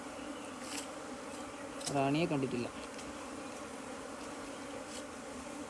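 Honey bees from a natural hive hum in a steady close swarm while being gathered and moved into a box, and a voice speaks briefly over the buzzing midway.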